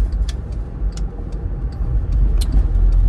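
A VW Caddy van on Yokohama Geolander 205/70/15 all-terrain tyres rolls along the road, giving a steady low rumble of engine and road noise from inside the cabin, with faint rattles over it.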